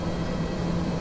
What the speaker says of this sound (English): APU's running